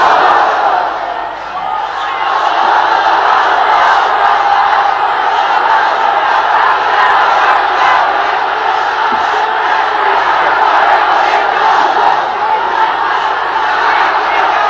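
A large crowd at an Islamic sermon gathering loudly chants the takbir slogan "Allahu Akbar", a dense, continuous roar of many voices that holds steady throughout.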